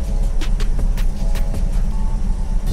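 A 1971 high-roof VW bus engine running after a new BERU ignition coil was fitted, giving a loud, steady close-up rumble with a fast ticking pulse throughout and no talking.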